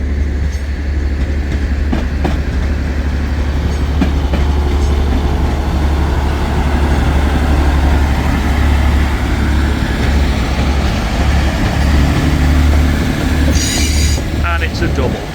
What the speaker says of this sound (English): The old Transpennine Express and the new Transpennine Express. And the 185 is leaving.